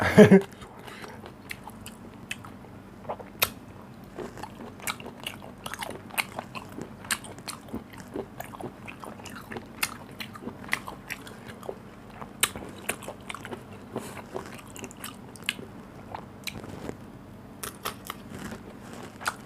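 Crisp bitter melon being crunched up close, with frequent sharp snapping bites and chewing in an irregular rhythm against a low steady hum.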